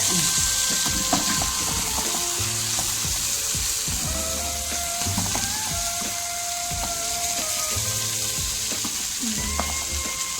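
Fish frying in a pan gives a steady, close crackling sizzle that runs throughout, with occasional light clinks and scrapes of stirring.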